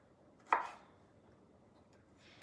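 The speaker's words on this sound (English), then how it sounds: "I like to cut off my ends of the garlic because they're sometimes a little tough." A knife cuts the ends off garlic cloves on a board, giving two crisp, close chops about two seconds apart with near quiet between them.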